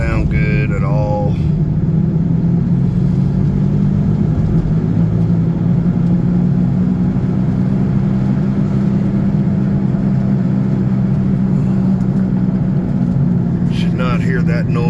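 A Chevrolet Monte Carlo SS engine droning steadily while driving, a loud, constant low hum with a slowly shifting pitch heard from inside the car, with a person talking at the start and end.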